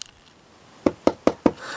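Four quick, evenly spaced knocks on a wooden surface, close and crisp, struck beside a collectible figure's display base.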